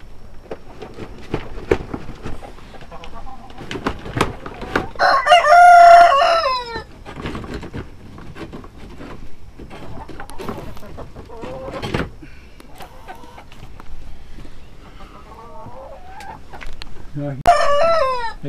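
Chickens cluck around a roost on a natural farm, with a rooster crowing loudly near the middle of the stretch and again briefly at the end, under steady background clucking and faint talk.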